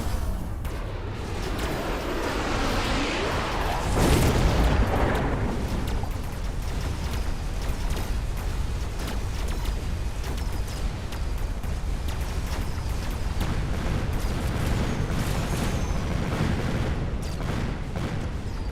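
Missile strike explosions in the Mechabellum video game, a swelling blast around the middle that settles into a long, steady rumble of distant battle noise lasting many seconds.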